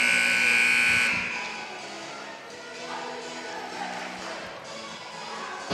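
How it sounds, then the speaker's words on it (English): A final buzzer blares for about a second at a high school volleyball district play-in game, loud and steady over gym crowd noise, then fades into a sustained murmur of the crowd. "And the final buzzer has been made."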